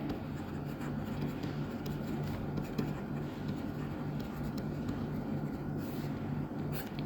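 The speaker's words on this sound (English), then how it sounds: "Let's write it down" Pen writing on paper while working an accounting problem, a soft continuous scratching of strokes close by, faint and steady against a low background hum, with no speech.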